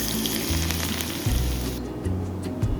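Hot oil poured over grated ginger and chopped green onions with a pinch of salt sizzles loudly and close, a bright crackling hiss with bubbling bursts that thins out near the end.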